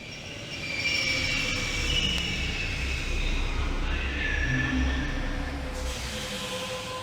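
A subway train in the video game The Longest Journey rumbles along steadily with squealing wheels and faint metallic tones, a continuous mid-distance rail drone that swells slightly and holds for several seconds, with no voices.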